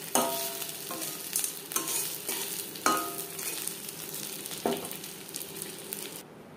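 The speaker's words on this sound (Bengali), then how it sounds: "দুবারে মাছ আমি ভেজে নিয়েছি।" Pieces of catla fish belly fry crisp in a pan of hot oil. A steady close sizzle is punctuated by several sharp clacks as the pieces are turned and stirred, with no talking.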